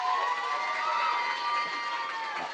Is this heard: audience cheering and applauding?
yes